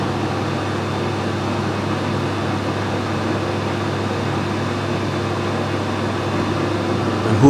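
A CNC machine recuts a thread on a wrongly machined part, producing a steady, even mechanical hum with a faint whine throughout, ending in a short louder clunk.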